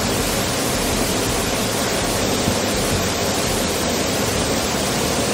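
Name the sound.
Datanla three-tier waterfall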